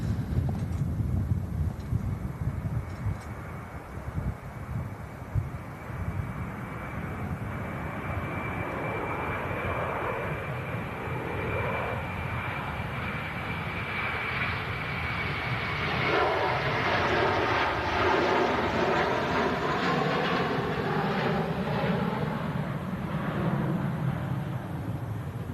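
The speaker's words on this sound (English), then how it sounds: "An aircraft landing just behind that as well" A jet airliner landing at an airport, its engine roar building steadily from a distance to a loud whine as it passes, with wind buffeting the microphone and no voices.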